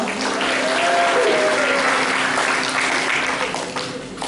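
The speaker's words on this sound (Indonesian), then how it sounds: "tepuk tangan dong buat Allah kita" Church congregation at a Pentecostal revival service in Pemalang giving loud, sustained applause, a dense wash of many hands clapping with a faint tone running under it.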